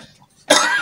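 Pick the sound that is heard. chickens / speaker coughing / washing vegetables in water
speaker coughing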